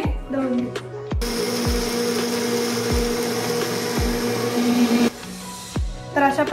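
A kitchen mixer grinder grinds strawberry shake premix in one loud, steady whirring burst of about four seconds, with plucked background music notes before and after.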